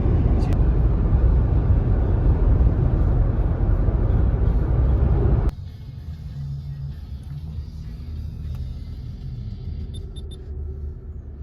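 A loud, steady low engine and road rumble from a moving car cuts partway through to a quieter, softer cabin drone.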